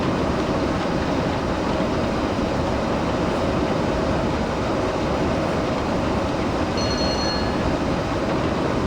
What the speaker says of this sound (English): There we go, the blower's blowing.